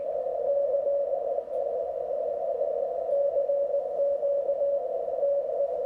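A steady audio tone comes through an HF transceiver receiver, a continuous pure whistle that holds at even loudness for several seconds with slight wavering, alone and without voices.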